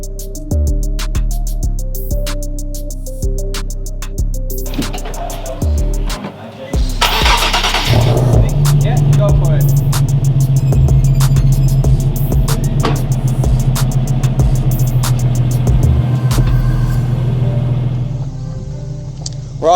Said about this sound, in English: he's going to take her for a little test drive to see if there's any rubbing